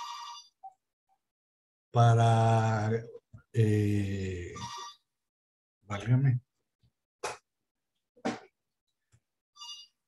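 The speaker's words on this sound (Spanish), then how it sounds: "Perdonen por el teléfono, siempre es un momento inoportuno" A telephone ringtone goes off during a talk on Mexican history, sounding in two melodic bursts of a few seconds each, with a brief spoken exclamation and a few faint clicks afterward.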